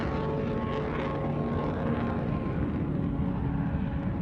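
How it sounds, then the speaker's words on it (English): A Boeing 737 airliner, the Aloha 243 flight, roars loudly and steadily through a takeoff climb, its engine noise filling the cabin with a continuous rumbling drone and no talk. "This airplane often rattles and shakes on takeoff and landing"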